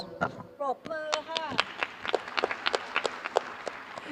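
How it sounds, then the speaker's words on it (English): Audience applause in a climate action conference room, light scattered clapping that starts after a few spoken words and continues as sparse claps with some talk nearby. "They deserve a big round of applause."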